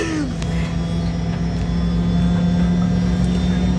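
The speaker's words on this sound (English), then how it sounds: "We're about to take off now." A private jet cabin before takeoff fills with a loud, steady engine drone and rumble with a constant tonal whine; faint voices sit under the noise.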